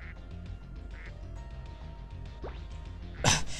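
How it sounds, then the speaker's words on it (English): Cartoonish duck quacks from the Spyro 2 video game, a family of ducks on Planet UGH, with two or three short, clear quacks, the loudest burst near the end over a steady game music background. "And there's a family of ducks."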